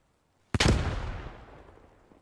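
A single grenade explodes in a video-game firefight, a sharp close blast with a long rumbling decay that fades over about a second and a half, with no talk.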